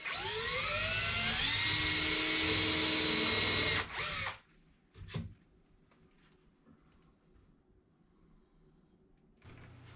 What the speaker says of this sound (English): I always pre-drill in a situation like this.